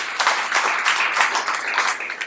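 Audience applause at a stand-up comedy show, a steady wash of many hands clapping at a fairly loud level with no talk over it.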